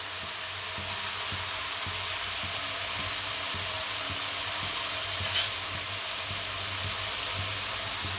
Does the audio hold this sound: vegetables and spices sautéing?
yes